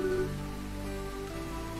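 Rain falling in the video game World's Dawn, a steady continuous patter over a low sustained game music bed, no voices.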